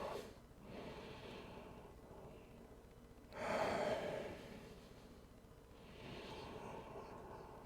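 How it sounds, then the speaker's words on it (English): A person takes a deep breath in during a yoga stretch, a soft airy inhale swelling clearly in the middle, with fainter breaths before and after. "Breathe in deep."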